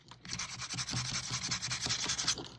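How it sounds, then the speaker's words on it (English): Hand sanding of a small wooden comfort bird, producing quiet, close rhythmic rubbing strokes in a steady back-and-forth pattern, with no talking. "get off camera and finish sanding it"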